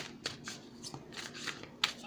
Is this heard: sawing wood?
no